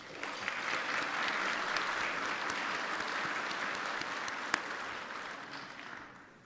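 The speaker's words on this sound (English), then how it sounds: "a round of applause for Louisville Slugger" An audience at the National Softball Hall of Fame induction ceremony applauds, a sustained, even wash of many hands clapping that fades out toward the end.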